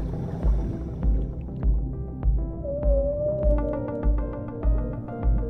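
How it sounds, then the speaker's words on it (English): A baby humpback whale call from the underwater video game Dave the Diver: a rising tonal moan over a rhythmic, throbbing underwater pulse that swells roughly every second, with scattered soft clicks. Nobody talks over it. "Yes, that's the sound of a baby humpback whale."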